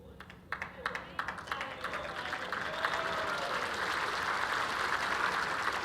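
Crowd at an indoor bowls championship breaking into applause, a few scattered claps swelling quickly into sustained, fairly distant clapping that holds steady to the end.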